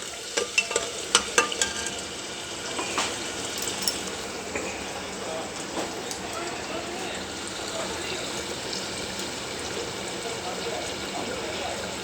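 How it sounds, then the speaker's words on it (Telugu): Ginger, garlic and tomato paste frying for chicken curry, a soft continuous sizzle with a few sharp stirring clinks early on; someone talks over it. "అల్లం వెల్లుల్లి టమాటా ముద్ద వేసారు, వేపుతున్నారు"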